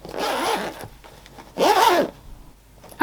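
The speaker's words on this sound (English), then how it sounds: "There are zip pull tabs at each end for easy zip opening," A zipper is pulled along a sewn arch pouch in two quick rasping strokes, close and clear, followed by a small click.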